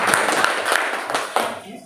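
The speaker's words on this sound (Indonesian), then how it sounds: "kita beri aplaus kepada Ibu Ella" An audience applauds a speaker at a school teachers' sharing forum. The clapping is scattered and moderately close, with a few sharp individual claps rising out of it, and then it fades out.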